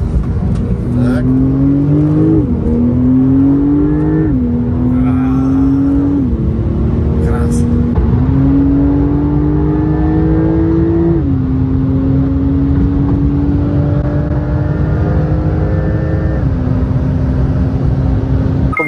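A Porsche 911 (992) Turbo S engine revs repeatedly while driving, the pitch climbing and dropping through gear changes and holding at a steady loud drone near the end.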